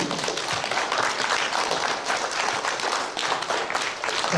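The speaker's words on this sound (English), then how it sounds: "let's give this group of kids a round of applause" Steady applause and clapping from a school assembly audience for a group of kids, a dense continuous patter of many hands at moderate distance, without talk.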